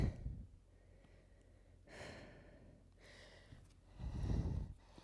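Deep breaths taken during a cardio and core workout stretch, rotating the torso to one side; a soft breath at the start, another near two seconds, and a heavier, closer exhale toward the end, with no talking.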